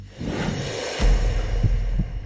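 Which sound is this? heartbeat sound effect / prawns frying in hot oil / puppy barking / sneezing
heartbeat sound effect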